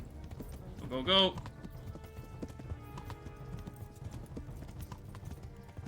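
A horse galloping in the video game Kingdom Come: Deliverance, a rapid quiet clip-clop of hooves running under the rider, with a brief spoken word early on.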